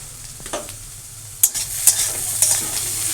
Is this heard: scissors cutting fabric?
no